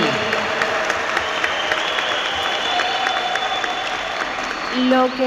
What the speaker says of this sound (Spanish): Un aplauso pues para esta hermana